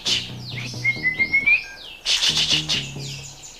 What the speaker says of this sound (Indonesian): siapa yang ingat murai batu Jakalarang?